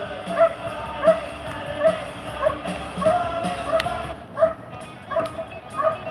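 A police working dog barks in a regular series of sharp, loud barks about a second apart during an apprehension demonstration at a working dog center, with faint crowd voices in the background.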